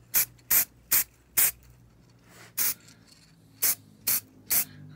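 Short bursts from an aerosol spray can coating the fork of a vintage Raleigh/Curry's Elizabethan bicycle in black paint, about eight sharp hissing puffs in an uneven rhythm, close and loud, with a low hum underneath and no talk.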